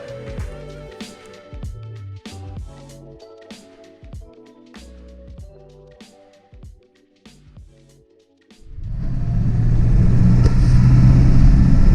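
A 2000 Ford F450 truck on a test drive: clicks and knocks give way to a loud, steady engine and road roar that swells in for the last few seconds.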